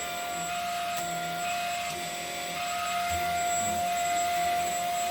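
A Maircle S3 Pro vacuum cleaner runs on low setting on a couch, steady with a high whine and a rougher, churning brush-agitation sound underneath, moderately loud throughout.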